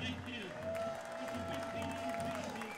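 Football crowd at a Weslaco East Wildcats vs Edinburg Bobcats high school game yelling after a penalty flag, a steady roar of voices with scattered clapping, mid-distance and continuous throughout.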